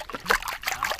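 Beaten egg poured into a pan while cooking, a brief soft trickling splash with light liquid dribbles, close and faint.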